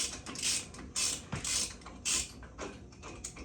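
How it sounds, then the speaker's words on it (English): A bolt is worked out of a Jeep Wrangler TJ lower control arm, giving a quiet, rhythmic series of ratcheting, creaking metal strokes about twice per second, close by with no talking. "Just take the bolt out."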